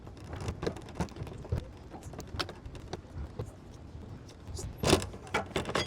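A spare tire hoist under a Ford F-150 Lightning is cranked tight, making soft, irregular metallic clicks and ratcheting clacks. The sounds are close but fairly quiet, with one louder clatter near the end. No one speaks.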